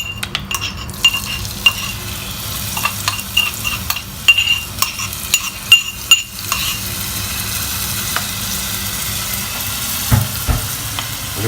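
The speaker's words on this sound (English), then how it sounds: "I'm going to put the ginger garlic paste, give it a quick fry." Ginger garlic paste frying in warmed ghee, a close, continuous sizzle broken by repeated metal spoon scrapes and clinks against the pan as it is stirred.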